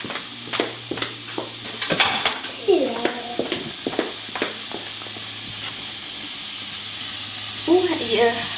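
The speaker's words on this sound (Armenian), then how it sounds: "Հիմա մի թեթև սենց կդաղեմ, շատ թեթև" Gentle sizzling in a pan as a utensil stirs and scrapes with light clinks, while a voice talks intermittently nearby.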